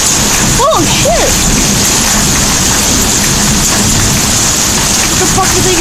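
Steady heavy hail shower hissing and pattering without pause, a couple of brief vocal sounds early on, then the dense drumming carries on alone.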